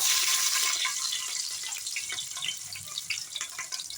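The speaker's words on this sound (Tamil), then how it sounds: "வெங்காயமெல்லாம் வதங்கிக்கிட்டு இருக்கு" Onions and curry leaves sauté in oil, producing a bright, crackling sizzle that is loudest at first and then settles into a softer hiss dotted with small pops.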